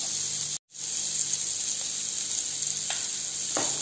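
Chopped onions fry loudly and close in a pan for Maharashtrian kanda poha, a dense continuous sizzle. A brief drop to silence comes early, followed by a few faint stirring scrapes.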